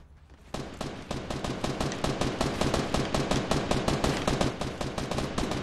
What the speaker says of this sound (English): Oh yeah, we're being shot at.